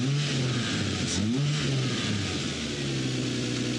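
An abandoned Mercedes G63 AMG G-Wagon on its first start revs hard up close, its loud engine roar rising and falling in pitch as the throttle is pressed and eased, steady and continuous without talk.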